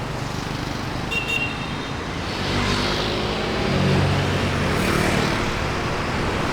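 Rush-hour street traffic in Saigon rumbles past, a steady wash of motor vehicles with a couple of horn toots and swells as vehicles pass close by.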